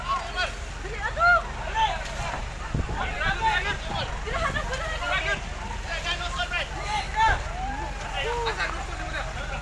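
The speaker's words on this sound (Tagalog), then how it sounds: "Kusog kay hangin. Grabe, kakusog jud sa kayo oh." Steady strong wind rushes over the microphone while several people shout and talk over it outdoors at a large fire, with occasional louder gusts.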